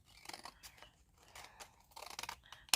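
Scissors cutting watercolor card, a few quiet crisp snips and rustles in short bursts, close and faint, with no talking.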